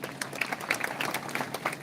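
Audience applause for a girl's drawing at a live talk event, a steady patter of many hands clapping throughout, moderately loud and fairly even with no talk over it.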